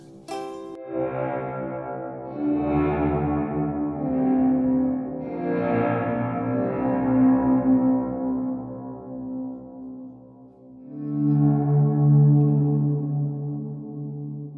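Guitar played through a reverb effect swells in long, washy chords with lingering echoing tails, soft and ambient like film music, played alone with no talking.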